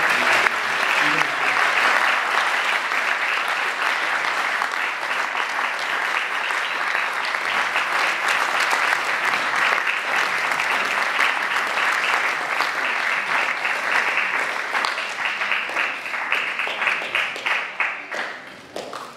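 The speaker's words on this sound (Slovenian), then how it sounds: "Prosim, en močan aplavz za vse." Warm, loud applause from an audience for the Slovenian group RAST from Argentina at a closing gathering in Šentjošt, a dense, continuous clapping that holds steady for most of the stretch before thinning into scattered claps at the end.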